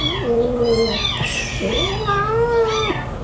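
A cat meows several times in drawn-out, wavering cries, close and fairly loud, with a low rumbling background underneath.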